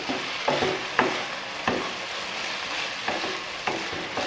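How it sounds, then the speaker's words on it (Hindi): Vegetables fry in a pan with soy sauce and chili sauce, giving a steady sizzle and hiss. A spatula stirs them in periodic scraping clicks, about one each second, and there is no talk. "1 मिनट के लिए इनको इनके साथ फ्राई करेंगे"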